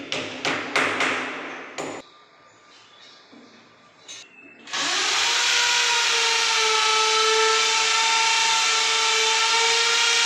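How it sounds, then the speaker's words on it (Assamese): A power drill bores into a wall to mount curtain rail brackets, preceded by a few sharp taps and knocks, then a loud, steady whine that runs continuously for the second half. "ড্ৰিল মেচিনেৰে ড্ৰিল কৰি এনেকৈ পাতি বহাই লোৱা হৈছে"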